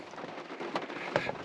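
Rain falls steadily on a campsite in the Sam Houston National Forest, a close, dense patter with a few sharper drops landing near the listener, quiet overall and without speech.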